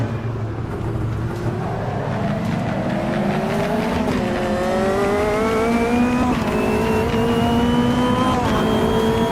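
A race car engine in the Automobilista 2 racing game revs up loud and close through several gear shifts, pitch climbing repeatedly over a steady roar with faint tire noise.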